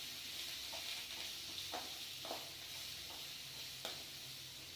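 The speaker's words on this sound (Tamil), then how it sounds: "வறுக்கிறது தான் முக்கியம், நல்லா வறுத்துக்கணுங்கண்ணே, அப்போ தான் வந்து டேஸ்ட்டாக இருக்கும் குழம்பு." Black pepper and spices dry-roasting in a pan for mutton kulambu: a soft, steady crackling hiss with occasional faint scrapes of a stirring spoon, quiet and fairly close, with no talking.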